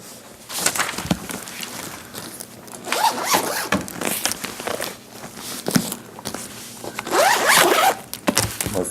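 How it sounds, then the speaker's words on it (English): A zipper on a case is pulled open in several short, rasping bursts, close and fairly loud, with quiet pauses and faint handling noises between strokes. "Murphy's Law always started with the wrong zipper."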